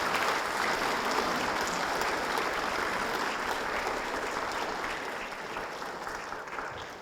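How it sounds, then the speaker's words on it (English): Audience applause at a Buddhist symposium on compassion and world peace: a dense, steady wash of clapping from a large crowd that holds evenly for the whole stretch and eases slightly near the end. "Can you please give him a round of applause to thank him?"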